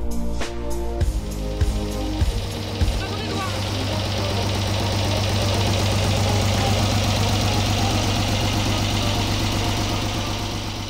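A boat's diesel engine cranks and catches after a few seconds, then settles into a steady, loud knocking rumble that runs on.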